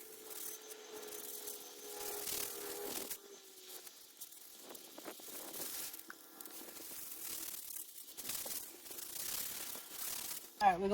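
Steady abrasive rubbing and rasping, a sanding block scraping back and forth across a vehicle headlight lens, moderately close with a few brief knocks.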